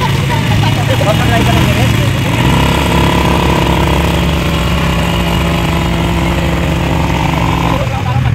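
A quad bike engine idles steadily on a desert safari outside Dubai, a loud continuous mid-pitched rumble that holds throughout with little change.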